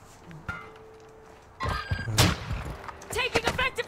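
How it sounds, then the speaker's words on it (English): An enemy sniper fires in Call of Duty MW2 DMZ: a few sharp single reports at irregular intervals, one of them loud and close, over a quiet game background with clattering effects afterward. "Enemy sniper."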